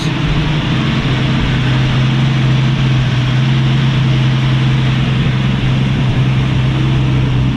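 The engine of a 1965 Ford Mustang restomod idles with a misfire, giving a loud, close, continuous low rumble with a steady drone and slight unevenness, and no talking over it.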